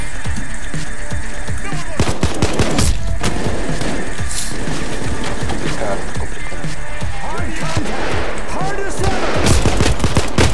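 Gunfire rattles through a video-game bank robbery in loud, dense bursts and single cracks amid chaotic game noise, with players shouting over it.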